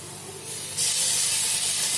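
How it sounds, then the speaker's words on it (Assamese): Crushed ginger and garlic hit hot oil where chopped onions are already frying, and a soft hiss swells into a steady, bright sizzle that holds close and constant. "এতিয়া দিম এই আদা নহৰুখিনি,"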